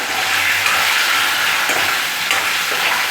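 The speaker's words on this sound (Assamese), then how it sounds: "এনেকৈ লৰাই অলপ সিজক, ঢাকি দিব।" Potatoes cooking in a pan are stirred, giving a steady broadband sizzle with soft scraping of the utensil, close and continuous throughout without speech.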